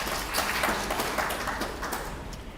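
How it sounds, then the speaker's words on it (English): Audience at an Eastside community candidate forum applauding the candidates, a steady wash of clapping heard from a distance in a large room, fading slightly toward the end. "Give them a round of applause."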